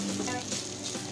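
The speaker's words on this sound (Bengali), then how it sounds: "মাংসটা একদম ভাজা ভাজা হয়ে আসছে" Chicken pieces for shawarma frying in a pan, a soft steady sizzle and crackle of meat browning in oil, close and low in level.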